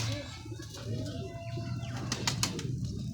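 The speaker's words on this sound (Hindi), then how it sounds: "ये दोस्तों गर्मी के बादशाह कबूतर होते हैं" Pigeons kept by a pigeon fancier cooing in low repeated notes, with brief bursts of wing flapping near the end, close by and under a steady background hum.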